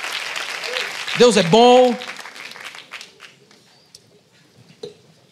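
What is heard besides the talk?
congregation applause in church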